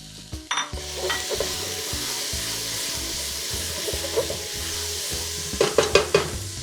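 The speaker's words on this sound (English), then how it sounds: "So our onions and peppers have been cooking for another 2 to 3 minutes." Onions and peppers fry in a pan with a constant sizzle, while a spatula stirs them in a regular rhythm of scrapes and taps, close to the listener and without talk.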